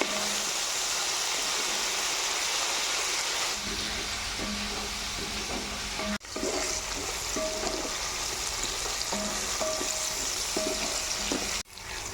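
Tender tamarind leaves fry in hot oil with a steady, loud sizzle and hiss, broken by a couple of brief dips and light scraping stirs.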